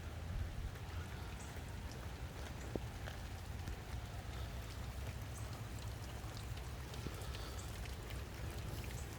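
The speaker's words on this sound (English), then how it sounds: "Of course, it's raining, so the roof looks pretty wet." Steady rain falling, a dense continuous patter with scattered drops striking a surface, no voices.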